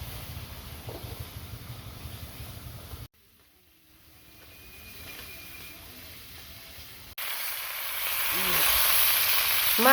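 Large fish frying in oil in a home kitchen, a steady hiss and sizzle that drops away partway through and returns louder near the end, with a few brief clatters.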